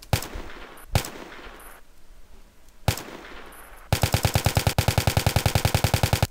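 Gunfire in a DICE shooter game: a few heavy single shots with echoing tails, then a rapid full-auto burst of evenly spaced, punchy cracks, loud and close with no voices.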